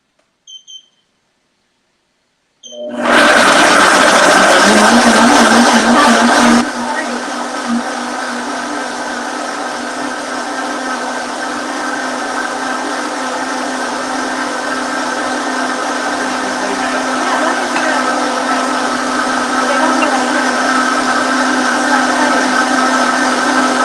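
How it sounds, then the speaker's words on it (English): After a brief quiet pause, a blender roars to life on vegan sweet cream, loud and close. It eases slightly in pitch after a few seconds, then keeps whirring steadily to the end. "So now that we're ready, we're going to go ahead and blend."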